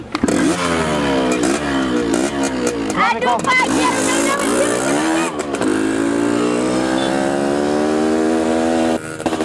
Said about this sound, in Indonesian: lebih indah suara motor saya